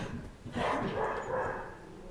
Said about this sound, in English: Your dog doesn't like me. That's my dog.